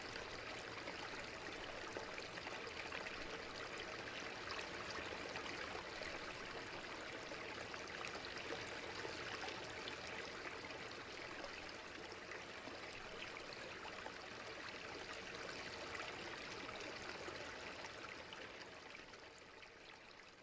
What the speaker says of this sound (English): Water sound.